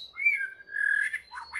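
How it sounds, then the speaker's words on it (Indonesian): A long-tailed magpie-robin (murai) calls near a trapping spot, giving a few clear whistled notes followed by quick chirps, fairly close and alone. "Itu rencananya saya mikat burung murai ya"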